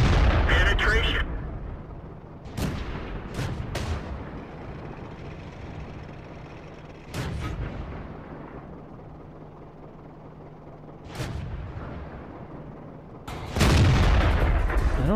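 Tank cannon shots in the armored combat game World of Tanks, several heavy booms spaced a few seconds apart over a low engine rumble, with a voice talking between the blasts.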